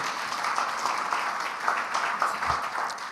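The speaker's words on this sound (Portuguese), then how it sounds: "E você aplauda ao Senhor por essa palavra, você pode aplaudir" A church congregation applauding during a Sunday celebration service, a steady wash of many hands clapping close by, with no voices rising above it.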